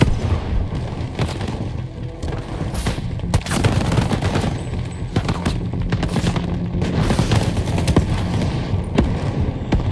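Loud, sustained video game gunfire from Shatterline rattles in fast bursts, punctuated by heavy booms and explosions from an incoming rocket, with no talking.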